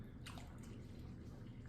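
Hot water runs steadily from a kitchen sink tap in a continuous, even rush, fairly quiet and heard alone.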